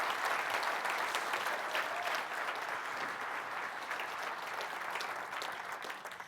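A symposium audience on flight training gives a loud, continuous round of applause for a sponsor, dense many-handed clapping that holds steady for about six seconds, then begins to thin slightly toward the end.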